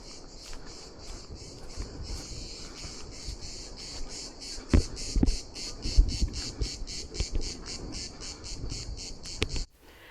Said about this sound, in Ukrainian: Величний такий ліс, багато звуків, е, пташок, е, комах.